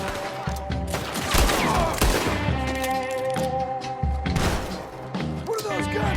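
Rapid volleys of gunfire from the video game Red Dead Redemption 2, loud and dense with overlapping shots, thuds and crashes running throughout, mixed with game music and voices.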